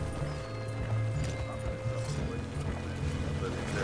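Horses trot with a steady, rhythmic clopping of hooves close by, while a voice talks over them.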